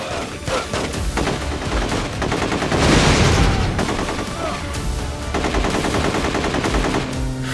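Rapid automatic AK bursts mixed with shotgun blasts from enemies in the PS2 game The Getaway, a dense, continuous volley of loud shots with no pause, swelling to a peak of heavy fire midway.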